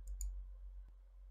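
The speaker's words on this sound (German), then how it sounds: "Dann einmal mit der linken Maus klicken." A single soft left computer mouse button click, two quick faint ticks near the start, isolated in a quiet room with low background hum.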